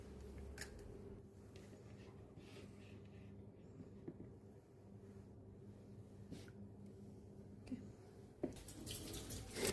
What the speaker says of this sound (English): Here I'm washing my hands yet again because I dealt with my eggs